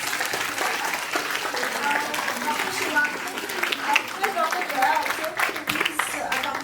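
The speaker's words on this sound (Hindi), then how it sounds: "एक बार फिर से ताली हो जाए, बहुत अच्छा" An audience at a National Pharmacovigilance Week celebration claps steadily after a play, dense sustained applause filling the whole stretch, fairly loud and close.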